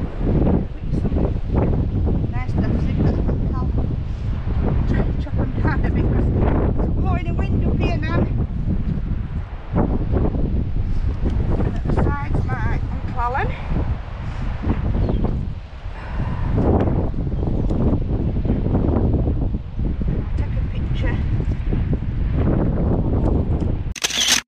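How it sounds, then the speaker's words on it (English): Blustery seaside wind at Newbiggin-by-the-Sea buffeting the microphone, heavy rumbling gusts that surge and dip over about twenty-five seconds, with a person talking over it in places. "Welcome back guys to a windy and blustery Newbiggin-by-the-sea."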